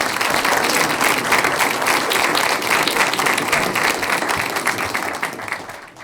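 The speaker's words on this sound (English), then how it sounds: "Can we give them a round of applause?" At a school board meeting, a room full of people gives students a dense, steady round of applause that holds for several seconds before thinning out at the end.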